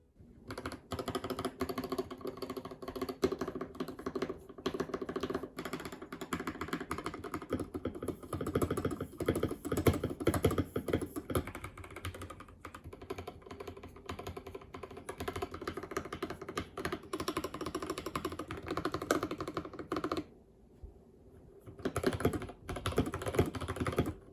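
Rapid, steady keystrokes on a YUNZII KC68 mechanical keyboard with linear Gateron Yellow switches, close and crisp, with a brief pause near the end before typing resumes.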